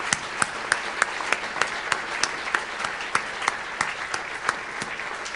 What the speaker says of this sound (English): If we could give them a big round of applause for their efforts.